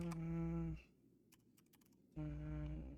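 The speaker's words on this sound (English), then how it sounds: "I'm typing it into the chat so I could just post it" A quick run of light computer keyboard typing, several rapid clicks, sits between two stretches of a loud, steady droning tone during an FF14 Dawntrail gaming session.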